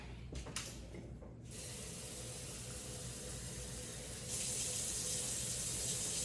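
Water runs steadily into a bowl, a continuous rushing pour that grows a bit louder and brighter toward the end, with no talking.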